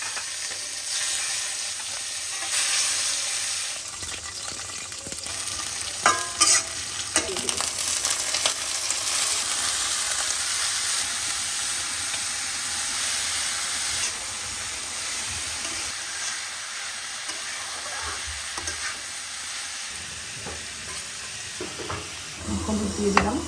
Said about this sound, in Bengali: আর এটা শুধু কড়কড়া ভেজে নিব